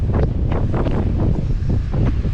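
Strong, gusty wind roars across the microphone on Bloubergstrand kitesurf beach, a loud continuous buffeting rush with pulsing swells and faint surf beneath.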